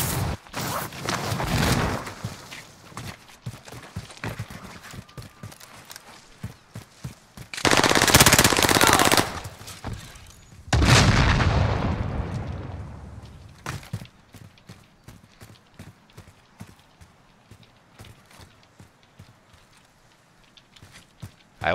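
Assault rifle fire in Call of Duty Warzone on Caldera comes in repeated rapid bursts, some long and loud, mixed with footsteps and quieter game sounds, with no talk.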